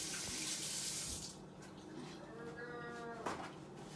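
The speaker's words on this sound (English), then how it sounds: "I'm going to wash my hands one more time." Tap water runs into a sink for hands being washed, a close steady splash that stops after about a second, followed by quieter handling and a brief voiced sound.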